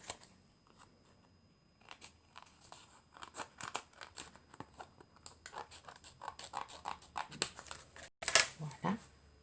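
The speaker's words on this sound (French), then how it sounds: "Je vais couper le surplus." Scissors snipping off excess acetate sheet on a handmade shaker card, a run of small, quiet crisp cuts and crinkles up close, ending with a louder plastic rustle and handling noise.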